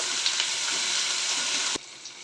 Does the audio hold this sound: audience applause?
no